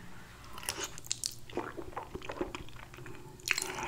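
Close-up chewing and biting of a chicken broccoli fettuccine alfredo meal with garlic bread, soft wet mouth sounds and occasional sharper crunchy bites, irregular and fairly quiet.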